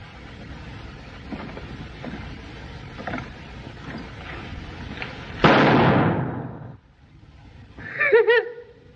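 Loud gunshot-like burst in a 1939 John Ford western, a sharp broadband blast around the midpoint that decays over a second, set against a continuous rumbling background of hooves and wheels, with a brief tonal whinny-like sound near the end.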